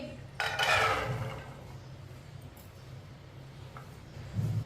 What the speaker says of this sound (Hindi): चने डाल लेंगे